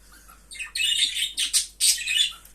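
A breeding pair of pet birds chirps in several bright, scratchy bursts, close and moderately loud, with short pauses between calls and no voices.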